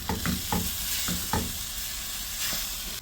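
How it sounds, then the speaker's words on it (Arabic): Shrimp risotto stirred in a pan after a ladle of broth goes in: a close spoon scraping and stirring in uneven strokes, with a soft steady sizzle underneath and no talking. "ونفضل نقلب"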